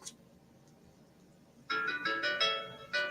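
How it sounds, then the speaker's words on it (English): A phone alarm abruptly starts after a quiet stretch, playing a bright repeating melodic chime that is loud and close. "Sorry, that's just an alarm on my phone."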